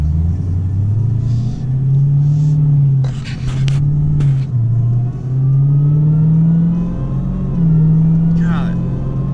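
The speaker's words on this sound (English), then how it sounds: "the supercharger sound, that never gets old" A supercharged Dodge Hellcat engine drones steadily, its pitch rising and falling as it revs, with a few short sharp noises on top and no voices over it.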